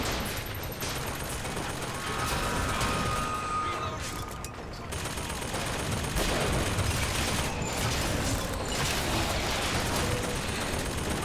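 Sustained, dense gunfire in the video game Bioshock Infinite fills the whole stretch with loud rapid shots and continuous battle noise, with voices mixed in.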